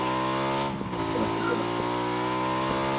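A steady car engine drones throughout, with a brief dip and a couple of soft thumps, a vehicle driving through grass and running over players in PlayerUnknown's Battlegrounds.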